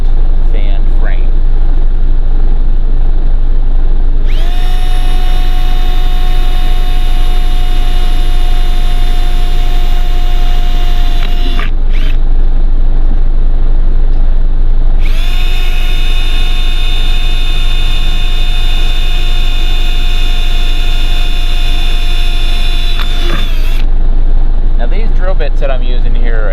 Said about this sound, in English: now I'm going to drill those 4 holes to mount the brackets